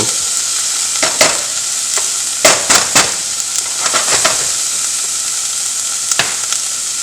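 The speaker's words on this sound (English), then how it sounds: "we're going to add some of these red peppers in here. I'm going to cook this for about another 30 seconds or so." Red peppers and other vegetables sizzle in a pot for a chicken pot pie filling, a steady fry under a series of loud, sharp scrapes and knocks as a utensil stirs them.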